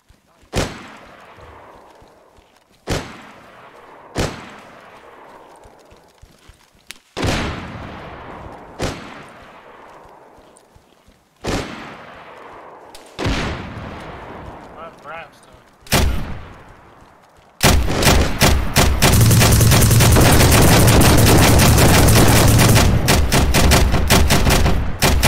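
Repeated loud gunshots in DayZ, single sharp cracks spaced a few seconds apart, each ringing out with a decaying echo, then a dense continuous burst of rapid automatic fire to the end.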